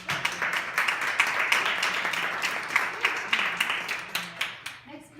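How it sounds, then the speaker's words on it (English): Audience at a panel on mentorship and advocacy for women in tech gives a burst of clapping, steady and fairly close, thinning into scattered claps in the final second. "Let's give her an applause"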